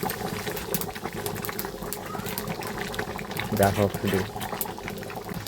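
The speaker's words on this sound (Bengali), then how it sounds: "কষছে মাংসটা, জল ছেড়ে দিয়েছে মাংস থেকে।" Desi chicken curry meat simmering in a pot in a village kitchen, releasing its own water, with a steady low bubbling under a person's talk.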